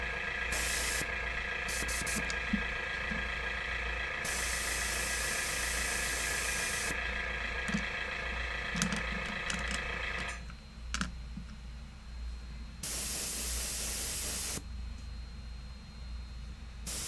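An airbrush sprays paint onto Warhammer 40k Centurion miniatures, making a close, continuous airy hiss with bursts starting and stopping, along with faint clicks and handling noises underneath.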